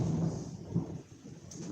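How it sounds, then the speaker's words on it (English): Low, rumbling thunder from a storm rolls on at moderate distance, a steady muffled boom that swells and fades without talk over it. "Rolling thunder."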